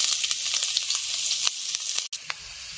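Chopped onion and boneless chicken, already seasoned with turmeric and salt, fry in a hot pan with a steady, close, bright sizzle. Soft stirring scrapes come and go, and a brief gap breaks the sound near the end.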